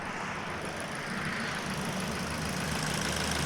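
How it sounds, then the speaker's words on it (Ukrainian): A 2005 Ford Focus sedan engine idling steadily, a low continuous hum and rumble with a faint regular ticking, heard close with no one speaking. "Така робота двигуна."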